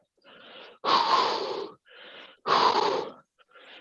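A rider in an adaptive spin class breathes heavily while pedaling, taking loud, rasping alternating inhales and exhales in a steady, labored rhythm, close to the microphone.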